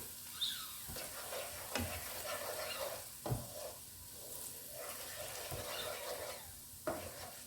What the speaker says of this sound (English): we are going to continually stir so we can fry off that raw taste of the curry